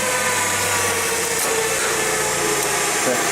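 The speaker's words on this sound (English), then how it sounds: "Engine revs, wheels doesn't turn." A forklift engine revving steadily with the parking brake on, a continuous droning hum held at a constant pitch for the whole stretch, fairly close.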